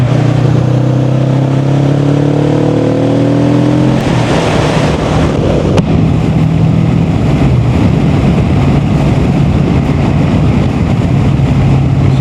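A 2021 Kawasaki Vulcan S motorcycle rides along, its engine note rising through the gears, then giving way to a loud steady roar of wind and road noise, close and continuous.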